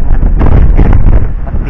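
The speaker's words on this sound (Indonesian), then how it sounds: "Karena angin bertiup lebih kencang" Strong, gusty wind roars and buffets the microphone on the summit of Mount Merbabu, reached via the Suwanting route during a storm; the rushing noise is loud, close and continuous, with no voices.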